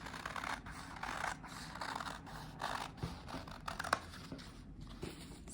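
Scissors cut a square out of fabric in a series of close, soft, rhythmic snips and rustles, quiet and without speech.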